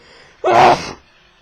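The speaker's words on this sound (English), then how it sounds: "oh dear, I've just sneezed!" A single sharp sneeze bursts out loudly after a brief quiet moment, then fades quickly back to silence.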